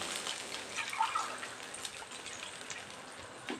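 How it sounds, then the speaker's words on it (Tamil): Water pours into a pan while rava upma is made, a soft continuous splashing trickle with light gurgles, close and fairly quiet. "அதில் 2 டம்ளர் தண்ணி ஊற்றணும்"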